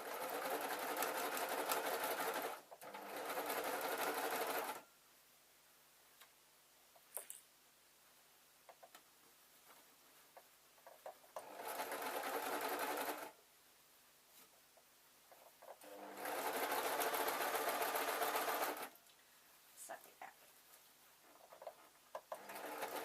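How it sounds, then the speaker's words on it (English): A sewing machine stitches a straight seam through fabric in four separate runs of steady, fast needle chatter. Quiet pauses with faint handling clicks fall between the runs. "we're literally just going to sew a straight line, watching out for pins of course"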